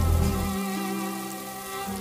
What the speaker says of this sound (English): The biggest lion cub looks impatiently, waiting for the rains to stop.